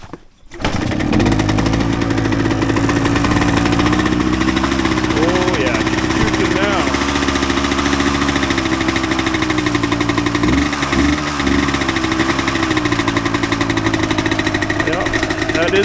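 A 1988 Yamaha DT200 two-stroke enduro motorcycle idles after a cold start, a loud, steady buzzing putter throughout with slight wavering in pitch and a few small revs near the middle.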